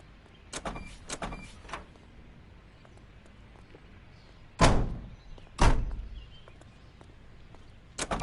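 A car door in L.A. Noire as a character gets out of the vehicle: a few light clicks and thumps, then two loud, close slams about a second apart, with one more thud at the end over a quiet background.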